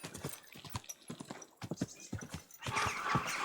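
Steady horse hooves clip-clop in a walking rhythm in Kingdom Come: Deliverance II, fairly close, with a brief whinny-like sound and some ambient noise toward the end.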